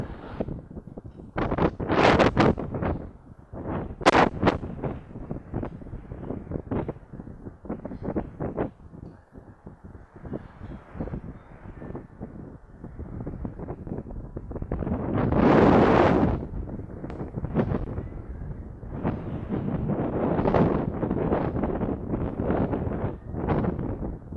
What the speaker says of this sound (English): It's nice and windy today.